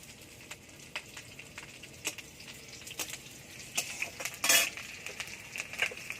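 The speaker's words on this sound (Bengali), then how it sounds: "কড়াইতে আর একটু অল্প তেল দিয়ে দেবো দিয়ে দেবো রসুন কুচি কাঁচা লঙ্কা" Chopped garlic and green chilies fry in a little oil in a wok, with a steady low sizzle beneath repeated sharp clinks and scrapes of a metal spatula against the pan.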